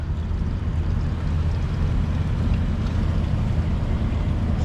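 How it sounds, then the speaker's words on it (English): Water rushes through the black tank flush of a 2018 Thor Citation RV, heard as a steady, loud low rumble that holds evenly throughout with no speech. "you can hear the water being run in there from the sandy flush"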